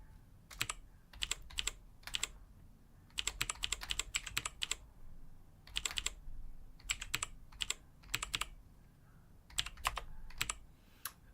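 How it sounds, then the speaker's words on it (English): Typing on a computer keyboard comes through as rapid clusters of crisp key clicks, close and clear, in bursts separated by short pauses, with no talking. "And now I was typing much like my speed limit."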